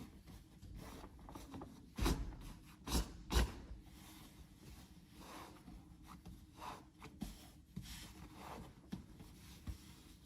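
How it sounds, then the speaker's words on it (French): Cotton martial arts gi being rolled up by hand, soft close fabric rubbing and brushing with a few louder thumps and rustles, quiet and intermittent with no talking. "Je vais simplement rouler mon gui."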